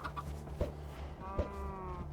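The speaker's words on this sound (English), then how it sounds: "there's a chicken." Chickens in Minecraft cluck in two short, distinct bursts over a steady low game hum and ambient background, with no talking.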